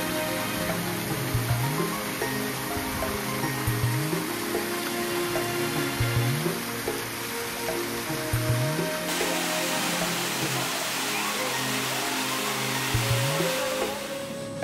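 Water from a Himalayan mountain stream at a waterfall near McLeodganj, Dharamshala, in November with low flow, running steadily over clear-bottomed pebbles as a continuous broadband rush, close and unbroken, with no talk.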